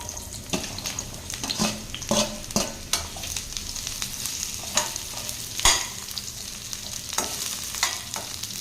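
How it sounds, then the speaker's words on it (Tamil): Bitter gourd sautéing in oil in a pan, a low sizzle under repeated scraping stirs and spatula knocks against the pan, close and irregular with no speech. "சேர்த்துட்டு இதுவும் அதே மாதிரி வதக்கி எடுத்துக்கலாங்க"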